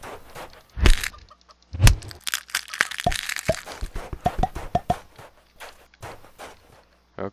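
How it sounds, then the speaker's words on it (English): Chickens cluck in the video game CHKN: sharp, close clucks and cracks in quick irregular bursts, mixed with footsteps and clicking game effects. "It's like the chickens from Legend of Zelda."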